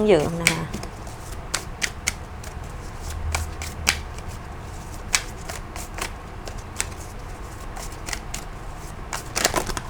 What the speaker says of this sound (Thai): ขอสับไพ่ดีๆหน่อย